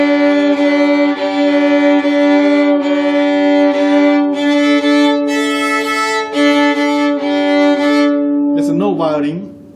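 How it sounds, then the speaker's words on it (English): A hand-made violin bowed in a series of sustained notes with a boxy, resonant tone, loud and close, ending in a quick sliding flourish. "This violin vibrates the sound much more like a box sound than any other violins."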